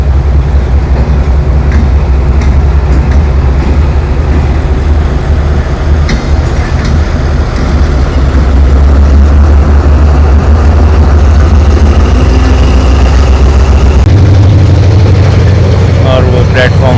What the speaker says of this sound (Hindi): आ रही है 16 डाउन कराची एक्सप्रेस